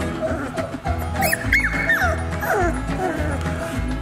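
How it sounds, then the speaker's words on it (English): A month-old Labrador puppy gives small high yips and whimpering barks, close up, with soft rustling and a person talking quietly in the background. "There you go. Get your bark."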